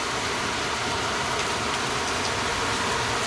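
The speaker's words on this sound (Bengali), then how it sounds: "ভালোই হচ্ছে বৃষ্টিটা।" Heavy rain falling outdoors, a dense, steady, loud hiss of downpour with no breaks, and a faint low rumble beneath it.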